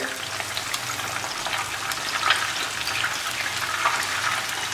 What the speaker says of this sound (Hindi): हमारी फ़िश जो है एक तरफ से फ्राई बढ़िया हो गई है।